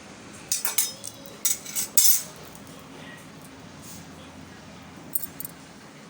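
Curd added from a cup and stirred with a spoon, giving several close metallic clinks and scrapes against the vessel in short bursts over a quiet background.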